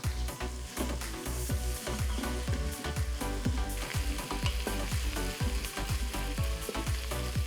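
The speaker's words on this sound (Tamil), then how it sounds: "வெங்காயம் பொன்னிறமாகிற வரைக்கும் வதக்கணும்." Steady sizzling and frying of sliced onions in a hot pan, with rhythmic scraping and stirring strokes repeating throughout, close and continuous, no talking.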